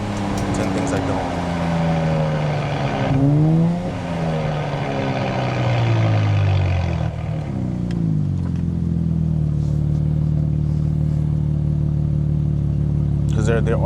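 A Nissan Z NISMO with a NISMO track exhaust revs up and settles, its engine note sweeping upward and back down before a steady drone, loud and close.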